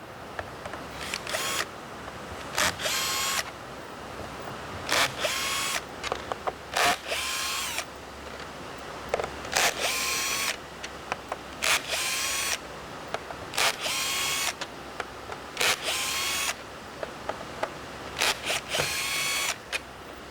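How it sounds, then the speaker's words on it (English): A power drill backs screws out of the side pieces of a SleepSafer Tall Bed closed extension, in roughly a dozen loud whirring bursts, each a second or so long, separated by short pauses. "we're now going to remove these screws all right here"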